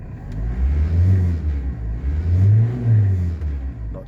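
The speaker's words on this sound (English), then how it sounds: "it's sounding okay when I give it a rev" A Hyundai iLoad van engine is revved a couple of times, its deep rumbling roar swelling and easing back, up close with no talking.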